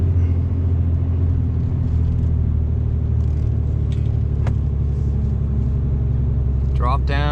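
A RAM 3500 Cummins diesel pickup hauls 30,000 lbs up a steep hill after a snowstorm, its deep, loud engine drone running steadily and close throughout, with a voice heard near the end.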